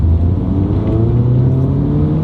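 A modified Mini Cooper JCW accelerates hard in second gear, its engine note rising as a loud, close, steady rumble with no talking.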